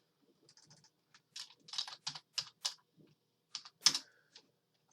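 Typing on a computer keyboard while doing arithmetic, quiet scattered clusters of key clicks in short irregular bursts, close by, with no talking.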